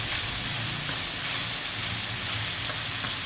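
Water or broth poured into a pot of chicken sotanghon soup with oil in it, producing a steady, loud sizzling hiss and bubbling that stays continuous and close throughout.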